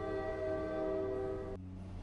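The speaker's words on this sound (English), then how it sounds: "They arrive by train, the only train that visits our terminal stop." A train whistle holds a sustained harmonic tone for about a second and a half, then cuts off sharply, leaving a low rumble of rolling rail cars underneath.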